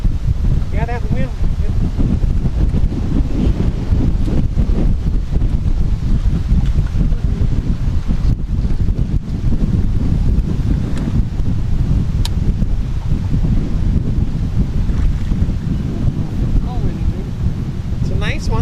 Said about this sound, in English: Yeah, that wind.